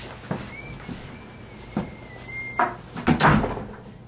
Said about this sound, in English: Can you close that door?